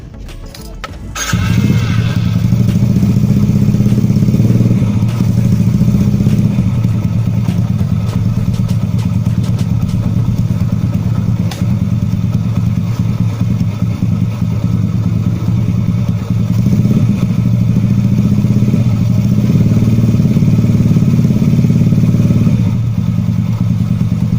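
A motorcycle engine starts after a carburetor repair for flooding and seepage. It catches with a thud and then runs loud and steady at a close rumbling idle, with no talk over it.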